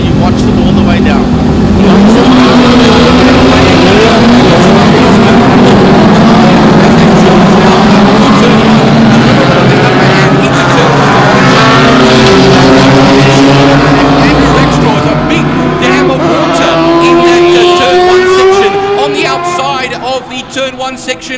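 Single-seater race cars wait on the starting grid at Killarney International for a Formula Libre race, engines droning loud and close with rising and falling revs layered together, and a commentator talking over them throughout.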